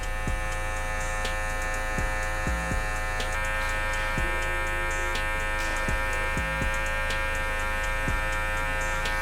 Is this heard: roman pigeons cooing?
no